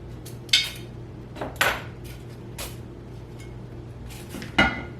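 Thrifted ceramic dishes clink together as they are handled, four or five sharp, bright knocks spaced a second or so apart over a quiet room hum.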